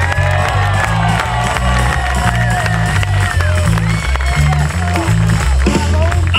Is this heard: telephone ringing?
no